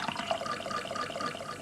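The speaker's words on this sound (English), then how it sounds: "first of all pouring water" Sampled pouring water played back on a Fairlight CMI early digital synthesizer and sampler, a steady bright splashing wash of liquid lasting under two seconds, heard alone without talk.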